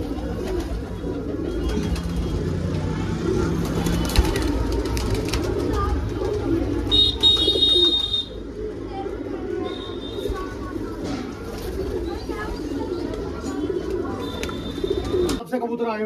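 Punjabi pigeons in a crowded loft, including border-type birds, coo and flutter steadily throughout, with someone talking over the birds much of the time.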